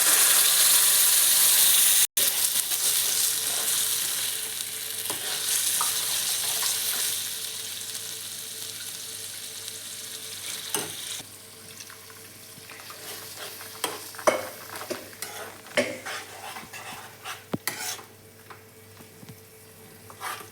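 Dal goes into fried onions in a pan. A loud, continuous sizzle comes first, then it settles into a quieter fry broken by irregular spoon scrapes and clicks against the pan, close to the listener and with no talk.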